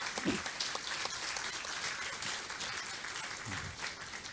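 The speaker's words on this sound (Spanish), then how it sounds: "por favor, gran aplauso, ¿no? Para Bolivia, que avance más." Church congregation at a New Year service gives sustained, moderately loud applause for Bolivia, a steady wash of clapping with faint voices underneath.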